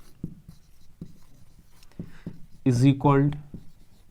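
Hand writing out math factors makes soft, spaced taps and scratches, quiet and close, with a short spoken phrase breaking in near the end.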